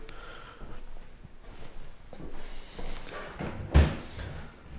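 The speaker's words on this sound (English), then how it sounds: "This drawer leans inwards." A pantry drawer that leans inward and may be off its track slides and bumps shut with one sharp knock near the end, after quieter rubbing and handling noises.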